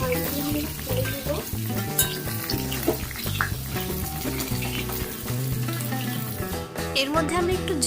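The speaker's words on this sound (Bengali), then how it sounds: "মাছগুলো যখন ভাজা হয়ে গেছে, মাছগুলো ছেড়ে দেব।" Pieces of fish frying in hot oil for a Bengali doi katla curry, a steady dense sizzle and crackle running throughout at close range, with faint kitchen clatter and stirring mixed in.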